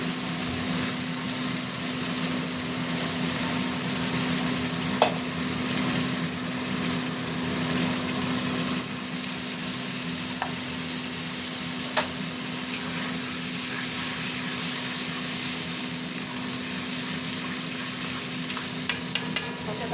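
Spice paste for a yogurt fish curry (doi pona) fries in oil in a pan with a steady, continuous sizzle, punctuated by occasional sharp clicks of a stirring utensil.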